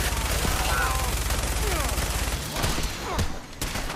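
Gunfire in the Fallout 4 video game, a sustained rattle of rapid shots over a heavy low rumble with scattered sharper cracks near the end, loud and continuous, with a voice briefly present.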